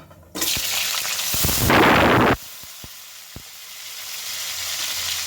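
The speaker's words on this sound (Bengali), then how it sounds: "দিয়ে দেব ডুমো করে কেটে রাখা আলু" Diced potatoes hit hot oil with cumin seed tempering and burst into a loud, steady sizzle, peaking for a moment before settling into quieter continuous frying with a few clinks of stirring.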